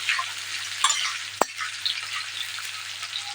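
Chopped garlic, green chili and onion sizzle in hot oil in a pan, a steady crackling hiss broken by a few sharp metallic taps of a cooking utensil.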